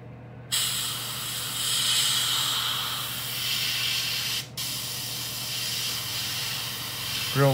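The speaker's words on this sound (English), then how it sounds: "I'm going to spray my black on it." A steady hiss of black paint from a spray gun onto a fishing lure craw runs almost continuously, with one brief pause midway, close and fairly loud.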